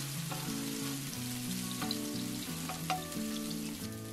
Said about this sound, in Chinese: 把切碎的红葱头放进去炒香